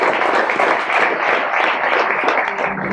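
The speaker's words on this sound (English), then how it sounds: "But a big round of applause for him." Audience applause fills a high school boys basketball post-season banquet room, a dense, steady patter of many hands clapping at close range that holds throughout.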